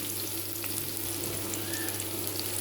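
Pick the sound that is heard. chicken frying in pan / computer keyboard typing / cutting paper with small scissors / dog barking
chicken frying in pan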